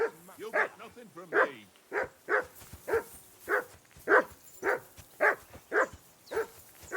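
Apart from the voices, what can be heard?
dog barking in Kingdom Come Deliverance 2 video game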